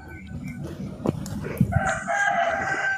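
A rooster crows with a drawn-out, strained call in the second half of the clip, heard over a busy background of voices and other noise, near and fairly loud.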